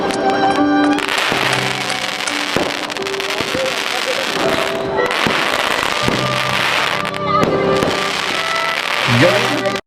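Fireworks at a community celebration pop and crackle in dense, loud bursts, with booming reports and sizzling crackle overlapping throughout while excited voices cheer nearby.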